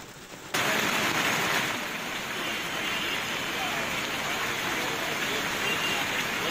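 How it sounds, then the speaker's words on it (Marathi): Heavy monsoon rain pours down in Guhagar, Ratnagiri district, as a dense, continuous roar that starts abruptly and holds steady and loud throughout. "गुहागरमध्ये पाऊस जबरदस्त सुरू आहे."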